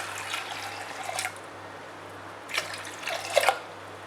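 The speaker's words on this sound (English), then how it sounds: "I'm going to add some turmeric powder and I'm adding water." Water added to washed lentils with turmeric powder in a kitchen pot, a few soft splashes and trickles at the start and again near the end, with quiet background hum between them.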